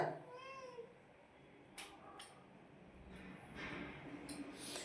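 A cat gives a short drawn-out meow near the start, followed by faint rustling and soft background noise.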